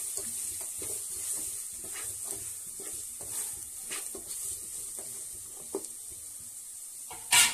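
Pigeon peas fry in a pan with a soft continuous sizzle while a spoon stirs them in repeated light scrapes and taps, ending with a brief louder clatter.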